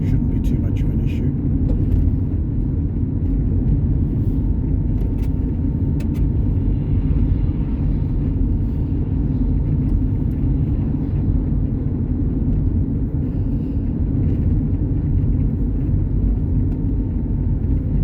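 A car drives steadily on a road with all-weather tyres, producing a constant low rumble of road and engine noise throughout, with a person talking over it.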